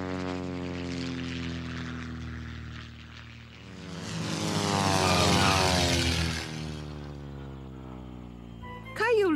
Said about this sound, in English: I think I see another one coming in for a landing.